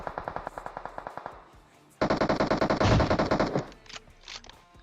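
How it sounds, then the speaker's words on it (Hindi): Automatic gunfire in the mobile battle royale game PUBG Mobile: rapid bursts of rattling shots, first a moderate stuttering volley, then a brief pause, then a louder, denser burst with sharp cracks before it tapers off. "वो लोग आगे गोली गोली चला रहे हैं"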